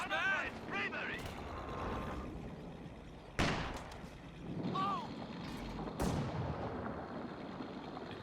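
Nebelwerfer rocket artillery barrage in Company of Heroes 2, sharp booming blasts and whooshing rocket sounds with gunfire, mixed beneath a voice talking.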